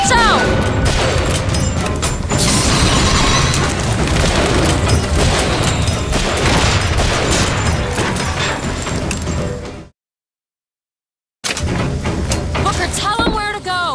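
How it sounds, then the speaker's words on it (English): Rocket blasts in the first-person shooter BioShock Infinite: loud, dense booms and crashes pile up for about ten seconds, cut off sharply into silence, then the chaotic battle noise comes back. "Rockets, watch out!"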